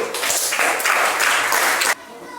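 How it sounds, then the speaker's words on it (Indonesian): Classroom applause from students, a dense burst of quick clapping that swells and holds loud, then cuts off sharply into quiet room tone. "Betul, tepuk tangan dulu."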